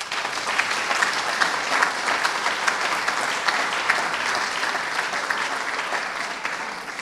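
Audience applause at a National Day academic ceremony in Luxembourg, sustained dense clapping from a large crowd, steady and loud throughout with no break.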